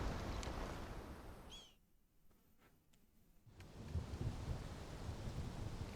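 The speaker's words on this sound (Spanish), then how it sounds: "vaya truenos" Thunder rumbling in the video game Final Fantasy XVI, a broad wash of storm noise that drops away to near quiet for a couple of seconds, then swells back into a heavy rolling rumble.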